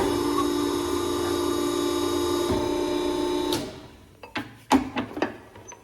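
Hydraulic metal shear running with a steady mechanical hum while cutting steel auger mounting plates for a deer feeder, ending abruptly, followed by several sharp metallic clanks as the clamp and stop are reset.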